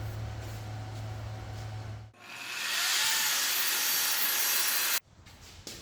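A saw bites into 1-inch metal bars for a driveway gate, a loud grinding cut of about three seconds that stops abruptly, with workshop hum before and clatter after.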